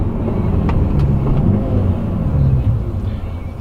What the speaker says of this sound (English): this car sounds bloody lovely